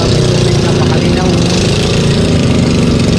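An engine runs loudly and steadily near a river dam in Montalban, Rizal, a constant rumbling drone that fills the short stretch, with a voice mixed in.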